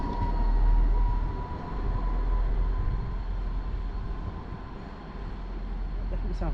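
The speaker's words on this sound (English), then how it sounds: "Definitely sounds like a South West Trains unit." A Class 158 diesel multiple unit, number 158 889, pulls away with a steady, full diesel rumble and rolling rail noise throughout, fairly loud and close, with a faint high whine.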